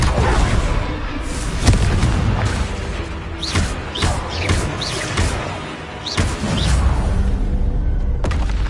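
The Confringo fire-blast spell in Hogwarts Legacy sounds as a run of heavy booms and whooshing bursts, repeated several times in quick succession over a dense, loud game soundscape.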